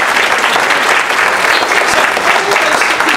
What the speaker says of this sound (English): You don't have to do that, clap.